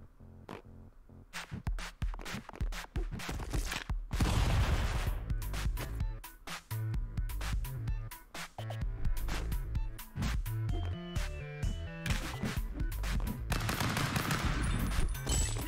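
Rapid bursts of gunfire from the Rocket Sticks video game played on Switch, dense and continuous, with sharp repeated shots layered over steady game music for most of the stretch.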